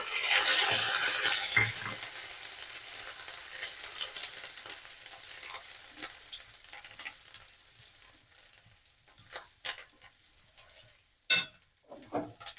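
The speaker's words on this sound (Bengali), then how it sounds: "কড়াটা বসিয়ে আমি আগেই তেলটা গরম করে নিয়েছি। এখন একটু দিয়ে দেবো জিরে, দিয়ে দেবো একটু আদা কুচি" Cumin, chopped ginger and chili dropped into hot oil in a wok give a loud, dense sizzle that slowly settles into a quieter crackle, broken near the end by sharp clinks and scrapes of stirring.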